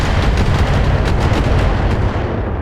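Missile salvos and explosions in the mech combat video game BattleTech make a dense, continuous roar of booms and blasts. The barrage is loud throughout, with no speech.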